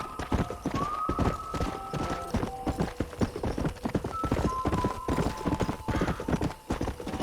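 Galloping horse hooves in the Red Dead Redemption video game, a steady rapid clip-clop running throughout over music-like tones, close and continuous.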